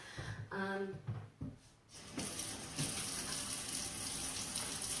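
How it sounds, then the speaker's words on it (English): Tap water runs into a sink during handwashing, starting after some brief voices and handling noises, then continuing as a steady close splashing rush. "Wash my hands."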